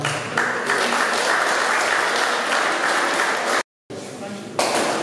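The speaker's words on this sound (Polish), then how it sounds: "Wielkie brawa." A crowd at a classic car competition in Tychy, Poland, claps steadily and loudly, the applause briefly cut off by a short silence before resuming.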